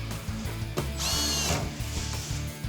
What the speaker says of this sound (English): put a screw right here for me